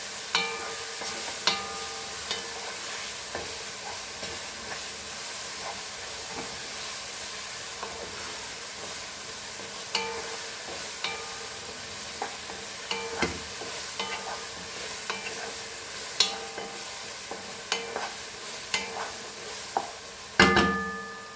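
Dal with salt, cooking alongside mutton, is stirred in a pot over a steady sizzle and hiss, with frequent scraping and knocking of the spoon against the metal and a sharper clank near the end.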